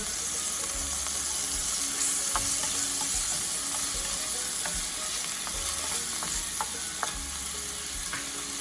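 Shrimp sautéing in a pan with bitter melon, a loud continuous sizzle and crackle with scattered scraping clicks from stirring, no voices.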